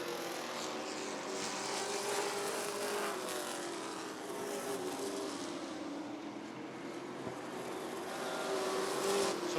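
Sportsman race cars battle for the lead at Rockford Speedway, a continuous, loud blend of engines droning and rising in pitch as the field circles, with no voices over it.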